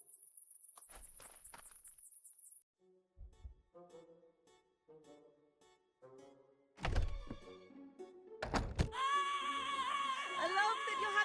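A doorbell chimes repeatedly in the video game PRIM, bright tonal rings with harmonics that keep sounding and overlapping, loud and close after quieter game sounds and soft thuds.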